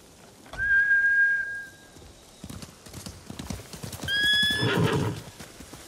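Samurai horses in the video game Ghost of Tsushima neigh loudly and gallop off, two close, strong whinnies separated by clattering hoofbeats, with a whistle sounding alongside.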